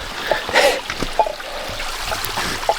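Cold mountain stream water in the Smoky Mountains splashes and drips in a few quick bursts as hands scoop it for a face wash, close by, with no talking.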